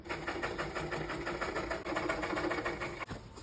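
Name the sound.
sewing machine stitching a jute bottle bag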